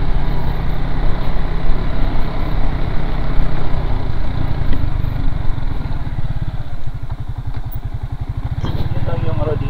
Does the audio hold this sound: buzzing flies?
no